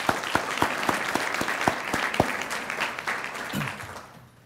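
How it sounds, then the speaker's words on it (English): Audience applause at an FBI Nashville Citizens' Academy graduation ceremony in 2012, steady clapping with a few louder individual claps standing out, fading away over the last second. "Big round of applause for all those who assisted our program."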